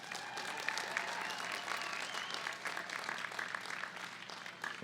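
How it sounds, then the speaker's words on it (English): Sustained applause from a large audience at a university commencement ceremony, a steady dense clapping that holds at an even level from start to finish with a few cheers mixed in. "Let's give everybody a round of applause."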